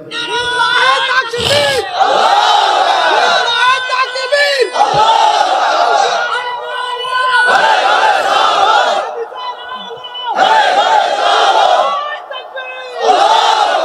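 A large crowd at a religious gathering roars a loud chant in reply to a Nara-e-Takbir call, several surging shouted bursts in a row with short gaps between them.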